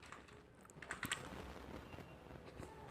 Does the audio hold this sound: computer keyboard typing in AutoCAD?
yes